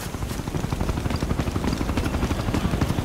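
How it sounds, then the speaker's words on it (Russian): A helicopter in the video game Ghost Recon Future Soldier gives a steady, rapid rotor chop at moderate loudness, pulsing evenly throughout with no talk. "Если вертушка нас заметит, тут начнется ад."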